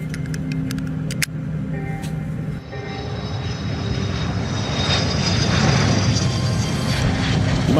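Airplane engine in flight gives a steady droning roar that builds gradually louder. A few brief clicks and knocks come near the start, and no one speaks.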